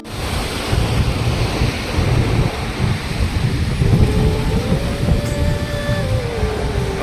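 Tungabhadra river water rushes steadily and loudly into a jackwell that supplies 22 lakes, a continuous roaring churn with a faint rising and falling whine of machinery underneath.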